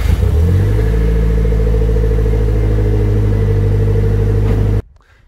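A Nissan Silvia engine idling at operating temperature during servicing, a loud, steady low rumble held evenly close by before it cuts off abruptly near the end.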